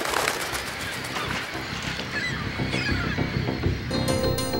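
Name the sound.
puffins and seabird colony calling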